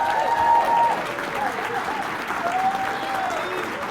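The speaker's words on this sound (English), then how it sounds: "applause for Mary Hayes and Bunny Lewis." An audience at a coronation ball applauds Mary Hayes and Bunny Lewis, a dense, sustained round of clapping that fades slightly toward the end, with some crowd murmur underneath.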